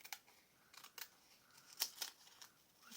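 Scissors snipping through scrapbooking paper in a handful of quiet, crisp cuts spaced irregularly, with faint rustling between them and no talking.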